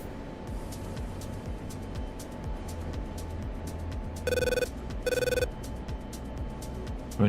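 Inside a DCS World cockpit, an alert rings like an old telephone bell in two short bursts over a low steady engine hum and a faint constant tone.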